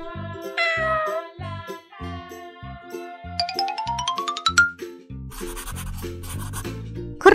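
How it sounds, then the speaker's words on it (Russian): A cartoon cat meows once clearly in a children's animated song about farm animals, followed by a rising bell-like jingle and a shimmering flourish over a steady bouncy accompaniment. "Кот."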